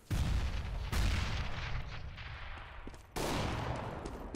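Gunfire and a grenade blast in the tactical shooter Counter-Strike: Global Offensive, with heavy bursts of shots and booms at the start, near the one-second mark and again around three seconds, and a dense rumble in between.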